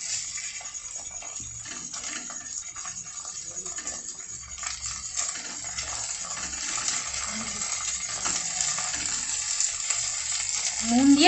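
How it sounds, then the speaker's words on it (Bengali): Salted, beaten egg frying in hot oil in a nonstick wok, giving a steady crackling sizzle broken by small metallic clinks and scrapes, with no talking. "তেলটা গরম হয়ে গেছে, এবার আমরা ডিমটা ভেজে নেব।"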